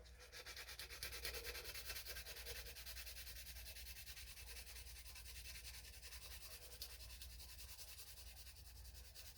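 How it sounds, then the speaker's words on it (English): Sandpaper rubbed on bare metal to smooth away old glue, producing a steady, faint, continuous scratchy rasping throughout. "I'm gonna get a little bit of sandpaper on there."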